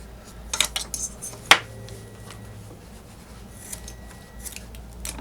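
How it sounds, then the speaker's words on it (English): A few sharp scissor snips through paracord near the start, one louder cut standing out, followed by quiet handling and faint rustling. "I need to get a new pair of scissors."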